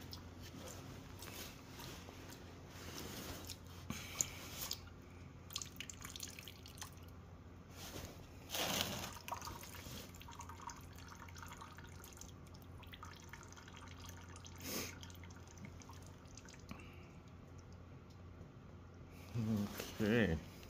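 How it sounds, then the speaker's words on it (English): Engine coolant trickles and drips from the loosened drain screw of a Kawasaki ZX600 motorcycle engine being removed for a buggy swap, faint and close, with scattered metallic handling noises and a short burst of splashing toward the end. "let's undo this drain screw. Hopefully we can keep most of the coolant in here"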